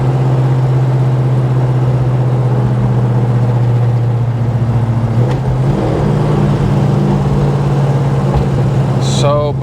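A Plymouth Roadrunner engine drones steadily while driving, a loud low rumble that shifts pitch briefly midway as the car changes speed, with a faint chirp near the end.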